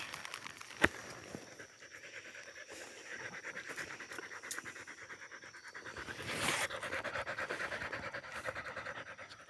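A dog pants steadily and rapidly at close range, with a few sharp scratches and rustles mixed in; no talking.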